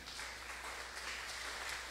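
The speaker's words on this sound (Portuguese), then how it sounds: "Você pode aplaudir Jesus, irmão?" A church congregation applauding during a sermon service: a brief, even wash of many hands clapping at once, held at a steady level with no voices over it.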